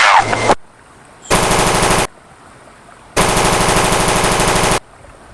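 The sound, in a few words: M4 assault rifle gunfire in a video game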